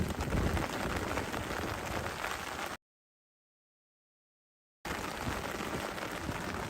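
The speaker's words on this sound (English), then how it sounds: "But no, it's very, very strong rain." Heavy rain pouring in the gardens of Versailles, a dense steady hiss of falling water that stops abruptly for about two seconds of silence before resuming just as strongly.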